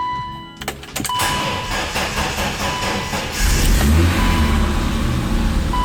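A BMW E30 engine idles roughly close by, its low rumble wavering and sagging toward a near stall before catching and settling into a heavier steady idle, with scattered clicks and a faint tone early on.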